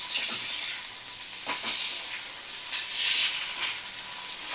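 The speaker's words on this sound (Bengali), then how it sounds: "এইভাবে মশলা আমি ভালো করে কষিয়ে নেব" Tomato and ginger-garlic spice paste sautéing in a pan for a vegetable fish curry, giving a steady broad sizzle with a few louder stirring scrapes, fairly near and alone.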